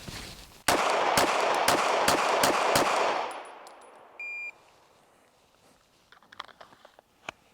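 A shot timer beeps and a handgun fires about six rapid shots in an even rhythm during a Bill Drill at an outdoor range, followed by short beeps and quiet after the string ends.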